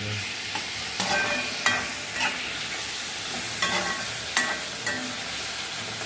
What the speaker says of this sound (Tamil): அதோட தக்காளி பழத்தை போட்டு வதக்குவோம்.